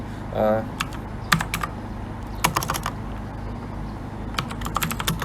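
Keys clatter on a computer keyboard in quick bursts as a search query is typed, fairly close with short pauses between runs, over a steady low hum.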